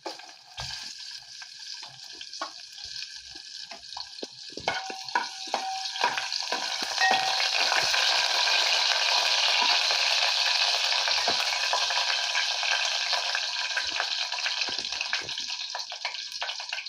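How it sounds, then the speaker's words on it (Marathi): Four or five crushed garlic cloves drop into hot oil in a pan, a loud steady sizzle that swells and holds, with scattered crackles and pops throughout. "तेल छान गरम झालं की आपण हा ठेचलेला 4-5 लसूण पाकळ्या आहेत त्या मी"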